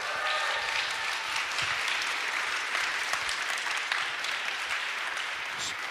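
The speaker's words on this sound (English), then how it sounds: "so can you get a round of applause?" Sustained audience applause at a community arts festival, many hands clapping in an even, unbroken wash that stays loud and steady throughout with no talk over it.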